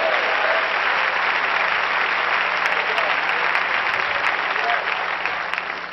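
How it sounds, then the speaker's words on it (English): Church congregation at an apostolic gathering clapping hands together, a dense, steady wash of applause filling the room that holds for several seconds before easing slightly at the end. "Somebody clap your hands and say amen"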